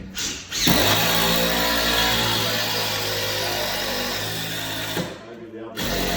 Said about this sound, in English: That's alright, we can drill another hole.